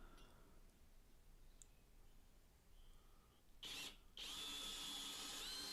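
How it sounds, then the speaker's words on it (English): After a quiet, hissy stretch, a power drill whirs up in two bursts, a brief spin then a sustained high-pitched run drilling pilot holes in wood for coach screws, to the end. "Here I'm just drilling some pilot holes ready for the coach screws."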